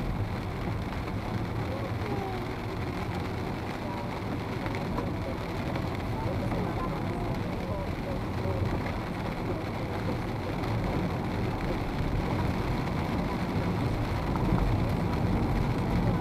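Steady rain falls in the village of Jarovnice after a storm that brought hail, a continuous broadband wash that stays even and fairly loud throughout, with no clear voices over it.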